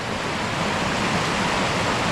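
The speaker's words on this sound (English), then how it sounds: "you can see the water cascading down there really" Careyburn waterfall pours fast into a round pool with lots of white water, a loud, steady roar of rushing water filling the scene without pause or voices.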